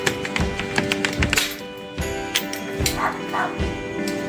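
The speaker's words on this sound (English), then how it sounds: "the neighbor's dog is barking at me like crazy" A neighbour's dog barks repeatedly and excitedly in short, irregular yaps at moderate distance, with a faint tonal hum in the background and occasional light taps.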